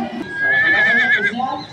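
Horse neighing at a fiesta parking area lined with horse trailers, one loud, close whinny lasting about a second with a shaky pitch, over outdoor crowd murmur.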